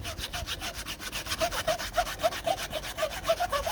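Cleaning gum is scrubbed back and forth over surf skate grip tape in quick, even strokes, giving a loud, rhythmic rasping scrape that repeats several times per second and grows slightly stronger toward the end.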